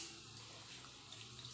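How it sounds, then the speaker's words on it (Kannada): Water trickles little by little into a mixer-grinder jar holding a thick ragi idli batter mixture, a faint steady pour lasting only a moment. "ಸ್ವಲ್ಪ ಸ್ವಲ್ಪ ನೀರು ಹಾಕಿ"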